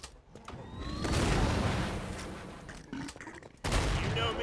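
Rapid gunfire in the video game Killing Floor 2, dense bursts of shooting on a farm map with sharp impacts and a loud shot near the end.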